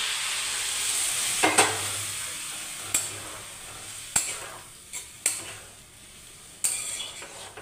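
Boiled potatoes sizzle in a pan as a little hot water goes in, a steady frying hiss broken by several sharp metal clinks and scrapes of a spoon against the pan.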